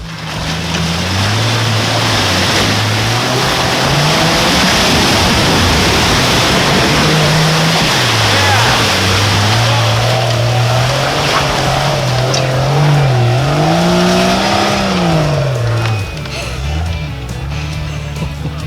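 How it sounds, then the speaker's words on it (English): A four-wheel drive vehicle off-roading in Alaska, its engine loud and close with revs rising and falling over a rough, rushing roar throughout, voices faintly underneath. "That's what four-wheel driving in Alaska is all about."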